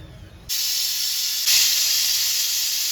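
A pressure cooker whistles as mutton cooks over a low gas flame, a loud steady steam hiss that switches on abruptly and grows slightly stronger midway, continuing without pause.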